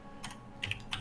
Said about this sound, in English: Sounds like keyboard. Typing sound.